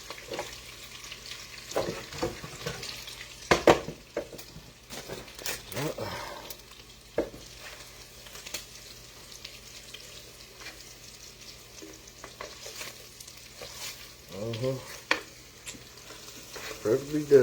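Green beans fry in a pan with a soft, continuous sizzle, broken by repeated scraping and clattering stirs of a utensil. Bursts come irregularly across the stretch, heard up close, with occasional talk in the background.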